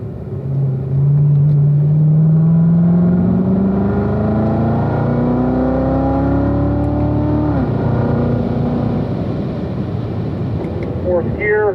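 A Corvette accelerates hard on a racetrack during driving school training. The engine is loud and close, climbing steadily in pitch, dropping once at an upshift, then pulling again.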